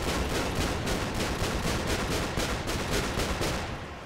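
Bombs exploding in the World in Conflict video game, a dense, loud barrage of blasts and rapid gunfire rolling on continuously before fading slightly at the end.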